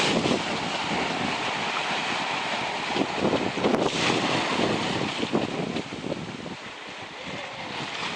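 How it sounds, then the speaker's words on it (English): A sailboat under sail on an open-sea passage, with strong steady wind roaring across the microphone and waves rushing past the hull, loud and continuous with no voices. "Been a lot of beautiful sailing on this passage"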